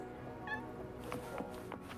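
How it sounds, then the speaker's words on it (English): A cat meows once, softly, while being petted in the video game Wuthering Waves, over a steady bed of in-game ambience with faint clicks afterward. "Aw, you can pet kitties!"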